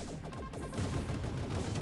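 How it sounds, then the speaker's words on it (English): Cannons fire during a heroic-difficulty boss fight in the aircraft shooter game Hawk Freedom Squadron, a dense, continuous barrage of overlapping blasts and crashes with no pauses, loud and busy throughout, with music mixed underneath. "Right, shooting of cannons."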